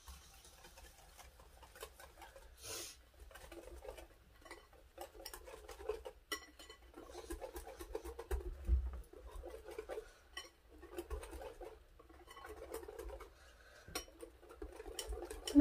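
Fine semolina being mixed by hand in a bowl, soft close scraping and light clinking strokes, faint and fairly steady with small pauses, no talking.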